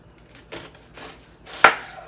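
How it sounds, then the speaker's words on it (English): Knife slicing an onion on a cutting board, a few close, crisp chops with the last one sharper and louder. "I cut my onion in half because it's easier for me to work with by cutting it this way."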